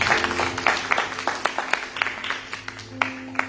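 A church congregation claps together, sharp, fairly regular hand claps that sound near, with a low sustained tone running underneath.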